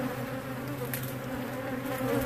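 An exposed honeybee colony inside a structure, a dense continuous buzzing hum of many bees close by, steady and loud without talk.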